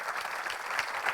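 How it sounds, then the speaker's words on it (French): An awards ceremony audience applauding trophy winners, a dense, even patter of many hands clapping at moderate distance for a short stretch. "on va pouvoir vous applaudir une nouvelle fois pour cette"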